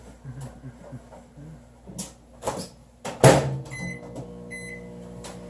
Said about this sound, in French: Donc, je remets au micro-ondes.